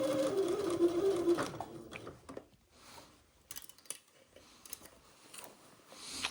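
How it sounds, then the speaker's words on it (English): A sewing machine stitching fabric for an Eton suit, a loud steady whir for the first second and a half, then quieter intermittent clicks and snips. "Turn that corner slightly and continue to sew."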